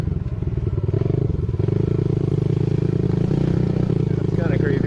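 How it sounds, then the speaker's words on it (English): A motorcycle engine drones steadily at close range while riding, a low continuous rumble with faint clatter and a voice briefly heard beneath it. "while he was riding his motorcycle"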